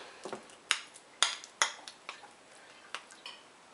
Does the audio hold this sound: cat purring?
no